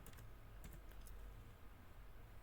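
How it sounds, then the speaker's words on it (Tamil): Keystrokes on a computer keyboard while entering a value into 3D modeling software, a few quick soft clicks in bursts over a steady low background hum, fairly faint and with no talking. "26ன்னு இங்கே டைப் பண்ணிக்கோங்க"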